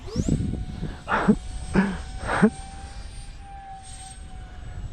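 A small model delta-wing fighter plane flies with a thin, steady high motor whine throughout, while voices talk excitedly over it in short bursts.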